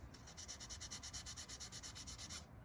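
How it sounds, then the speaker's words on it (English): Steady back-and-forth hand sanding of mold parting lines off a model car part, a soft rhythmic rasp of quick, even strokes, close and quiet with no voices. "what I'm doing is I'm sanding these off"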